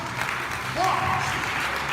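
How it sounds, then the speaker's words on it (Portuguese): A church congregation breaks into applause that swells partway through, a brief burst of clapping under a speaking voice. "dê uma forte salva de palmas"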